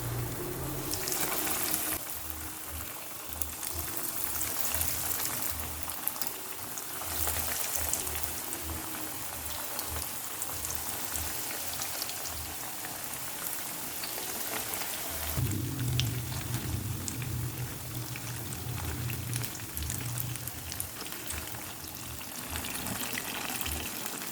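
Risoles deep frying in hot oil, a continuous dense bubbling and crackling hiss that holds steady and fairly loud from start to finish, with no voices.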